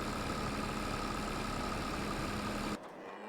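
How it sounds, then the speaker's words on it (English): A tractor engine idles in the Farming Simulator 22 video game, a steady droning hum with a faint whine that drops away abruptly near the end, with no speech. "so the tractor's been pulled in there"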